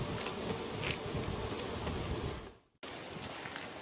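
Honey bees buzz steadily around an open hive, a dense, fairly loud drone with passing wingbeats close by, briefly cutting out near the end before the swarm hum resumes.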